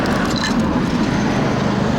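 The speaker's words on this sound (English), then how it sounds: "sorry for the car noise" A car's steady engine and road rumble dominate, loud and close, holding constant for the whole stretch without clear rise or fade.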